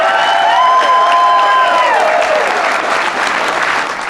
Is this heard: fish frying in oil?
no